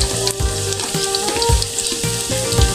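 Garlic sautéing in hot oil at the start of a home-style chicken liver and gizzard adobo, a loud close crackling sizzle with bursts of spattering and occasional utensil knocks, no talking.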